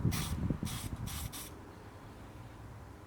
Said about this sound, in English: spray a bit of this into the lid